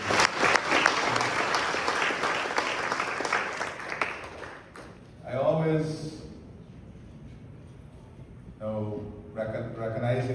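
Audience applause at a tourism awards ceremony; a thick burst of clapping for the first few seconds tapers off, followed by someone speaking into a microphone in a quieter hall.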